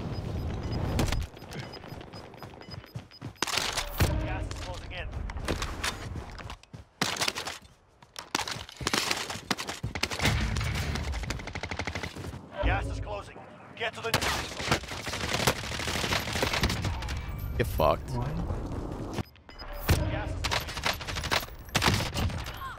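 Dense gunfire fills a Warzone match, with rapid bursts and volleys cracking almost without pause, briefly dropping away in a few short gaps.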